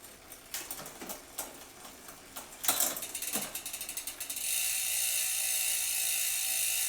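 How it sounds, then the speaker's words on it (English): Rear freehub of a gravel bike ticking in rapid, loud clicking bursts as the wheel coasts, the clicks breaking off into a steady hiss near the end. "Pretty loud clicks too on that hub."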